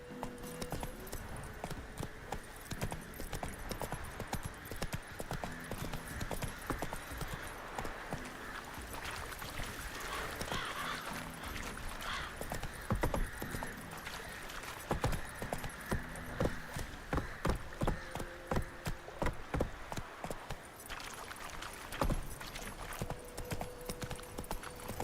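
Horse hooves clip-clop steadily through the whole stretch in The Witcher 3, a continuous rhythmic trot sitting over a constant ambient bed with a faint musical drone.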